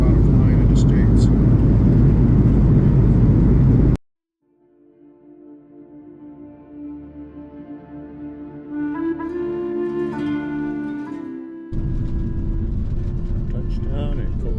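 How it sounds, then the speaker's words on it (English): An airliner touching down at Copenhagen Airport. A loud cabin roar cuts out abruptly, then a rising whine of engines and braking builds steadily before heavy rumbling noise returns near the end. "Touchdown at Copenhagen Airport."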